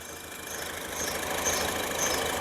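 A four-cylinder i-VTEC petrol engine in a 2016 Honda City VX idles steadily, a soft hum that swells slightly, with faint periodic whirring chirps high above it. No speech is present.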